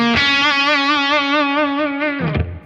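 Electric guitar played through an Origin Effects Revival Drive Compact overdrive pedal with highs boosted and gain at halfway: a single thick, warm distorted note with slight wavering, held steadily then cut off abruptly.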